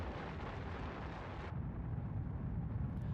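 Deep volcanic rumble from a massive eruption as the supercontinent Rodinia splits apart, a dense, loud roar with a bright burst that cuts off at mid-point into a lower, heavy continuous rumble.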